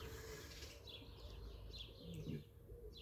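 Small birds singing outdoors on a warm, sunny day, their faint, distant chirps repeating in short bursts over a soft, steady background hush.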